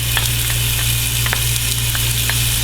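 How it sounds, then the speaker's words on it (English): Chopped smoked bacon frying in a Teflon pan, stirred with a wooden spoon, giving a loud, constant close sizzle with scattered pops and crackles over a steady low hum, no voices. "So we're going to put in our bacon."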